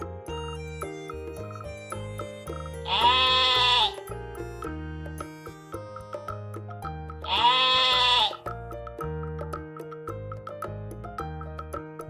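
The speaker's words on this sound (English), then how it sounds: "Sheep are soft and woolly creatures that provide us with wool for clothing and blankets." Sheep bleating twice, each a loud wavering call about a second long, separated by several seconds of light musical accompaniment.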